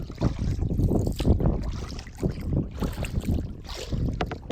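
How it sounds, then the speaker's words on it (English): Wind gusts buffeting the microphone while sailing a kayak under a small sail in Northern Ontario, a steady loud rumble swelling and easing in waves with faint water trickle beneath, no talking. "The wind is at my back. That's a good thing. Should make for good sailing."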